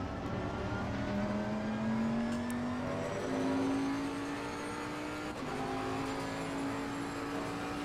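A race car in the sim racing game Assetto Corsa Competizione holds a steady, loud engine note with pitch steps as it shifts, heard continuously and close with no talking.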